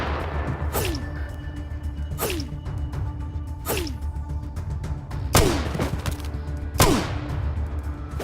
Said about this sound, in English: What if I'll shoot this guy?